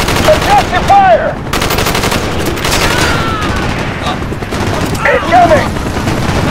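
Call of Duty Black Ops battle gunfire: loud bursts of automatic weapon fire and shots, with shouting voices in the mix, rising at the start and again near the end.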